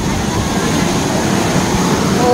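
Waterfall at the end of a hiking trail, a steady loud broadband roar of falling water filling the whole clip without pause.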